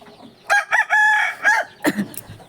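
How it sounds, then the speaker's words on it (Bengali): A rooster crows nearby in a long drawn-out call, mixed with a few short chicken clucks before and after, close and fairly loud with no talking. "মুরগিগুলো বেরিয়ে যাচ্ছে"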